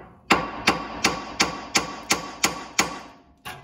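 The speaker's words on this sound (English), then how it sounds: "hitting this lower control arm with a hammer right here" Eight sharp metallic hammer strikes on a 2002 Honda Accord lower control arm, evenly spaced and loud, ringing briefly after each blow, then a ninth after a pause.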